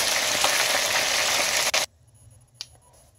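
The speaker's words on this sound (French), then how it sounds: "j'ai fini de frire les poissons" Fish frying in a pan, a loud dense sizzle that cuts off abruptly partway through, leaving near silence broken by one faint click.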